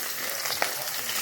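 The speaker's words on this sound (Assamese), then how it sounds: "ফ্ৰাই কৰি আছে মাছ" Fish fries in a home kitchen pan, a steady bright sizzle with one brief sharp crackle near the middle, close and alone without talk.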